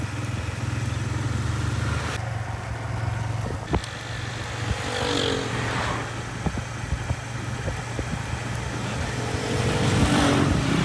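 A motorcycle is ridden out from home, its engine giving a steady, close drone through the whole stretch, with a few brief knocks and shifts in the traffic noise around it.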